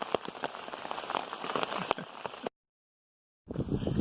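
Rain patters steadily on a surface in Maine along the Appalachian Trail, with scattered sharp drops, then cuts to a second of silence before the rainfall resumes.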